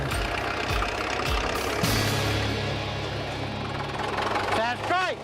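An old bulldozer engine idles close by with a steady, rough, knocking rumble, and a voice comes in near the end.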